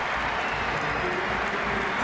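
A large stadium crowd of Welsh rugby fans in Nantes, at the 2007 Wales vs Fiji match, applauds in a steady, dense wash of clapping and cheering, loud and continuous throughout.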